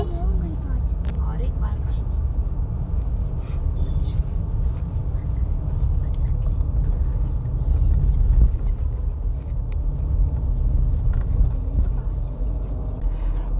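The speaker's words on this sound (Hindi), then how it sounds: "अभी हम लोग ड्राइव कर रहे हैं खानापुर रोड पे।" A car drives along Khanapur road toward Goa on NH748, with a continuous low engine and road rumble from inside the vehicle and a few faint higher noises above it.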